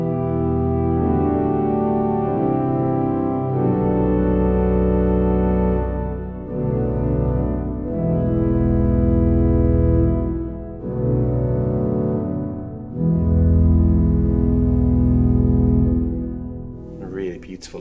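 Two church pipe organ stops combined with a deep 16-foot stop play slow, weighty held chords in Cirencester Parish Church, rich and booming with reverberant swells and brief gaps between phrases.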